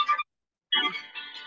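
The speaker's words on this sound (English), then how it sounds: "I can't always turn my phone off." A mobile phone ringtone chiming in short electronic bursts, a brief pause between them, fairly clear and near with no talk over it.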